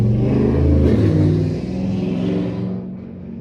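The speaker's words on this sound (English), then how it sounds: "That was a motorcycle." A motor vehicle engine, identified as a motorcycle, roars past nearby, a loud steady rumble that swells and then fades away over a few seconds, with no voices.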